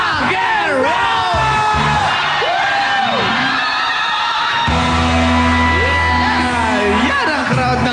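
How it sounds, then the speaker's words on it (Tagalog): A Cebu crowd yelling and cheering at a live TV variety show, loud sustained whoops and bellows rising and falling over steady hubbub, with a brief hum of music under the second half. "Yan ang crowd ng Cebu"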